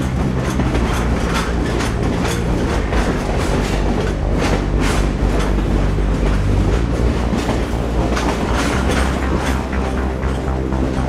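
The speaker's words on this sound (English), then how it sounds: "the unhurried speed of this diesel train is nonetheless a highly nostalgic experience." A diesel train on the railway near the River Kwai, Kanchanaburi, rolls steadily along the tracks, with a continuous low rumble and rhythmic clickety-clack of wheels over rail joints, loud and close throughout.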